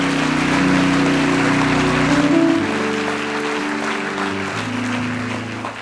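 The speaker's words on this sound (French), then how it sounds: "Acclame, acclame, acclame," Congregation clapping throughout a church service, a dense steady wash of applause that stays loud the whole time and tapers a little toward the end, with a faint musical tone running underneath.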